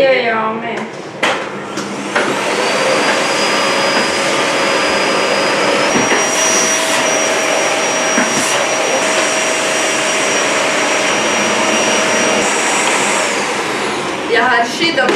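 A household vacuum cleaner starts up and runs loud and steady with a high whine for most of the stretch, then cuts off near the end; voices are heard briefly at the start and end.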